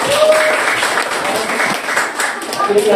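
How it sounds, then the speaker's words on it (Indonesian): Students in an Indonesian classroom applaud together in a dense, steady wash of clapping that fills the room, with voices and shouts mixed in underneath. "Tepuk tangan lagi dong, buat Sakia."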